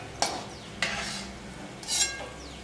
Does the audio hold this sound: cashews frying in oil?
yes